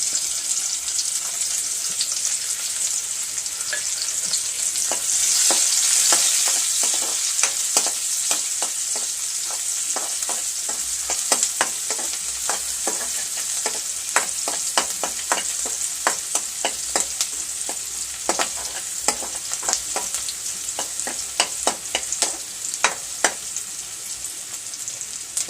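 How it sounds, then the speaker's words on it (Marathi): Onion and garlic sauté in a pan for a Malvani-style colocasia leaf curry, a steady bright sizzle running throughout with frequent sharp crackles and pops, and stirring scrapes that grow busier toward the end. "चांगला गुलाबी होईपर्यंत परतून घेऊया आपण कांदा आणि लसूण"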